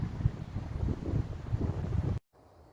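Gusty wind blowing through the woods on a dry morning after an overnight camp in a tipi, a steady, fairly loud rushing that cuts out abruptly near the end, with no voices.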